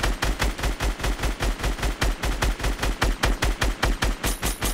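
Rapid automatic gunfire in the Fortnite video game, a steady burst of about twenty evenly spaced loud shots lasting nearly five seconds, without talk.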